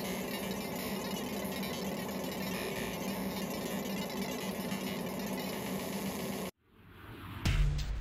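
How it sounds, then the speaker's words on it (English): A ComMarker 20-watt fiber laser running: a steady close electronic buzz and hum with a high whine, cutting out abruptly near the end before a brief louder mechanical thump. "Yes, that is the sound of the fiber laser."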